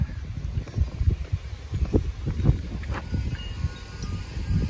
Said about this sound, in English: It's a little bit windy out here.